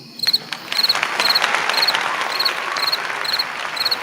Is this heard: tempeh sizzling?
no